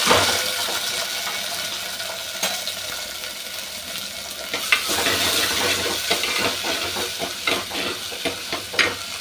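Cracked turkey berries are swished and rinsed in a bowl of water, with a wet sloshing wash and scattered clicks and splashes, close and fairly loud, no talking.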